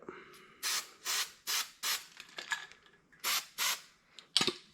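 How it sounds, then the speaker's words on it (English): Fluid Film lubricant sprays onto a bolt in a series of short, close hissing bursts, about eight in a loose rhythm, with small metallic handling clicks between them. "And then a little fluid film on it."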